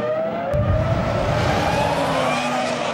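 A 2004 Formula 1 car with a failing, smoking engine screams along the track, a loud sustained whine with shifting pitch and a rough burst near the start.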